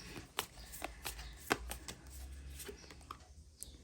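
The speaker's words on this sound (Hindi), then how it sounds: "मैं 6 कार्ड्स यहाँ से निकालूंगी" Tarot cards drawn one after another from a deck during a reading, giving soft papery flicks and slides with a few sharper snaps, close and quiet, with no talk over them.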